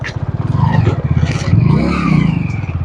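A motorcycle engine revs close by on a dangerous mountain highway road, a steady low throbbing drone with rising and falling pitch that persists throughout with slight clatter.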